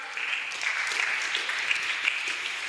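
A church congregation at a Sunday school gathering claps steadily and evenly, a continuous moderate patter of applause with no speech over it.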